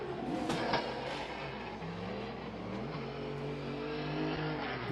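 Turbocharged BMW E46 drift car at Agassiz Speedway during pro drift practice, engine roaring steadily at high revs throughout with wavering pitch, sustained and fairly loud, with possible tire noise mixed in.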